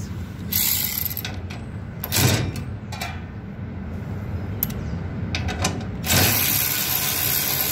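A 3/8 ratchet wrench turns during an exhaust cone replacement on a Maxi Heat 1M BTU heater, giving several short bursts of metallic clicking separated by pauses, close and moderately loud.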